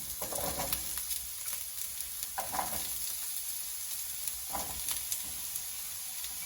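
Breakfast ingredients sizzling in a frying pan, a steady close hiss with a few soft stirring knocks spaced through it, no voices.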